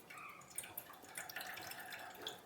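Water drains from chicken pieces in a home kitchen with light, faint trickling and scattered drips that stay soft and close for a couple of seconds.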